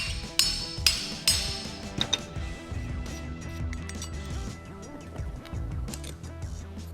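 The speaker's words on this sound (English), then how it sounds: "we use the brass punch and hammer to break it free" Several sharp metallic hammer strikes on a brass punch ring out in the opening seconds, breaking a threaded engine part free, followed by quieter clinks and shop noise.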